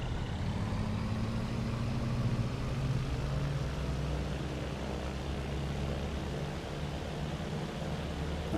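An Aeroprakt A-31 Vixxen light aircraft engine holds a steady run-up at 3600 RPM, a loud, continuous drone with a low propeller hum that stays constant throughout, with no voices over it.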